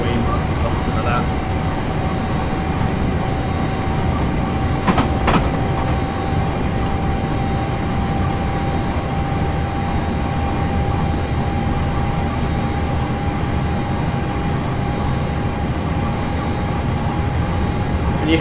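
Simulated Class 444 electric train running in Train Simulator 2018, a steady broadband rumble with a constant tonal whine throughout, a couple of brief clunks near the middle, no talk.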